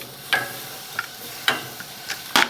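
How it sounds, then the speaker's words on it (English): Lamb chops on a gas grill: a faint steady hiss broken by sharp, scattered crackles and pops at irregular intervals, close by and with no voices. "time to get these chops on. Now I'm using a gas grill today"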